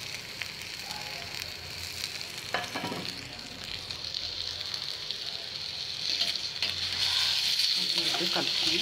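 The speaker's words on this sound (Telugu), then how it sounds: "ఇప్పుడు ఫ్రై చేసి పెట్టుకున్న కొబ్బరి ముక్కలు అండ్ వంకాయ ముక్కలు వేసేసి" Coconut pieces and eggplant pieces, already fried, sizzle and crackle steadily in hot oil in a pan, a continuous hiss that swells a little louder toward the end, with a few faint stirring knocks.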